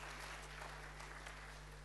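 Congregation clapping hands for God during an Indonesian church sermon, a dense continuous burst of applause over a steady low electrical hum.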